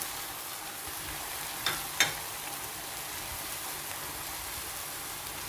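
Julienned chicken sautés steadily in a hot pan, a soft continuous hiss with a couple of brief clinks partway through.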